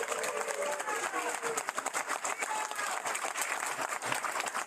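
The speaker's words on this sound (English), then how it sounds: "Let's give them a round of applause." Applause from an audience honoring Department of Public Works employees at a proclamation signing for National Public Works Week, steady dense clapping with crowd noise throughout, fairly loud and continuous.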